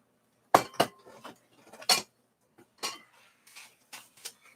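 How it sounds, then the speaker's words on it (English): A glass stirring rod clinks against a glass beaker while mixing a solution for an osmosis experiment, giving a series of sharp, irregular taps and rattles at close range. "So we'll take a stirring rod and we'll ensure that is mixed up thoroughly."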